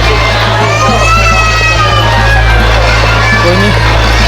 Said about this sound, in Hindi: बहुत ज़्यादा रश है यहाँ पे।